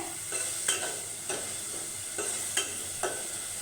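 A spatula scrapes through taro corms and Malabar spinach stems in a hot pan for a hilsa curry. Several slow, separate stirring strokes sound over a faint, steady sizzle.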